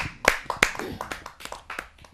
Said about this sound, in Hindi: तो आइए इनकी खाकी पर कविता को सुनते हैं हम आप सबकी जोरदार तालियों से